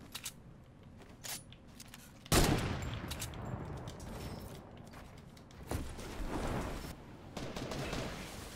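Gunfire in a video game breaks out in scattered single shots, then swells into louder, denser volleys after a short quiet opening, with brief pauses between bursts.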